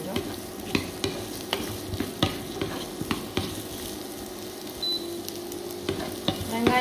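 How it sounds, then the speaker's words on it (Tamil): Large chunks of onion sauté in a pan for a channa masala, a steady close sizzle broken by regular scraping clicks as a spoon stirs them. "வெங்காயம் வதங்கிறது கொஞ்சம்"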